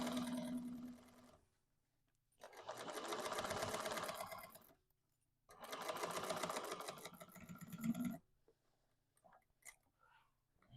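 Sewing machine stitching a tote bag, a quiet nearby motor whirring in three separate runs of a few seconds each, with short silent gaps between them.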